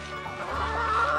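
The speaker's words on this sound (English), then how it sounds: "this is a brooding chicken" Hens in a hen house, including a brooding chicken, give a low continuous clucking murmur that swells slightly toward the end, close by and fairly soft.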